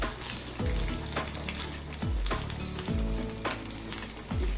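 Risotto croquettes fry in hot oil with a steady, close sizzle, broken by a few stirring or turning clatters at regular intervals.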